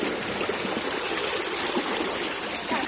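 Spring water pours from a pipe in a constant close splashing rush, broadband and unbroken from start to end with no voices.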